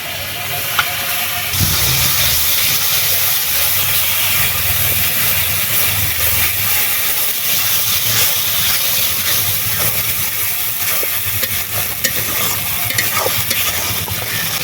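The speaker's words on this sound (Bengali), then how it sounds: "লঙ্কা গুঁড়ো হলুদ গুঁড়ো জল এবার দিয়ে দিচ্ছি বাটা মশলা" Spice paste, chilli powder, turmeric and water hiss and sizzle loudly in a hot pan while being stirred, a dense, continuous frying noise close to the microphone.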